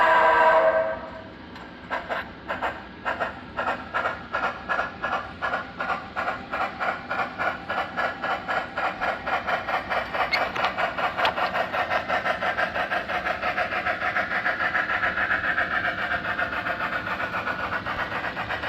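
A small model steam locomotive, a Southern Mikado 2-8-2, chuffs rhythmically on a model railroad layout, its puffing beat steadily quickening and growing louder as it runs, with a hiss at the start.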